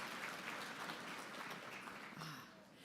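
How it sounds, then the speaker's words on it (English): Audience applause at a municipal association convention, a steady broadband wash of many hands clapping that holds evenly for about three seconds and eases slightly at the end, with no talking over it. "Let's have a huge hand of applause for this Saltcoats girl, Joan."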